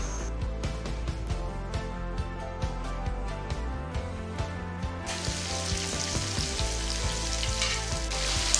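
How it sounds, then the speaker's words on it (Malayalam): Pieces of fish frying in hot coconut oil, a dense steady sizzle with sharp crackles and pops, growing louder and brighter about halfway through as more pieces go in. "അപ്പോൾ ഓയിൽ ചൂടായിട്ടുണ്ട്. ഇതിലേക്ക് നമുക്ക് ഓരോ പീസായിട്ട് ഇട്ട് കൊടുക്കാം."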